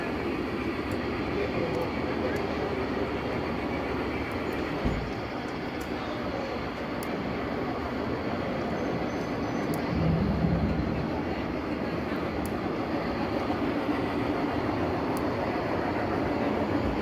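A low, steady rumble of a model train rolling past at a finescale modeling open house, broadband and continuous for a long stretch, with faint clicks along the way.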